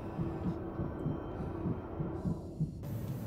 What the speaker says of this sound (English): The heartbeat was pretty intense.